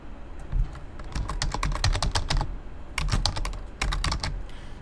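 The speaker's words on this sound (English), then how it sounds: "So we type in the event ID." Typing on a computer keyboard, close and clear, with rapid clusters of key clicks in uneven bursts and brief pauses between them.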